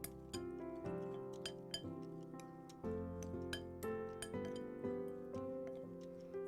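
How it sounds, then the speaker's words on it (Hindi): A spoon clinks steadily against a bowl while a mango, black pepper and almond salad is mixed, producing quick, bright taps in an irregular rhythm, close and fairly quiet with no talking. "इसे भी हम अच्छी तरह मिक्स कर लेंगे।"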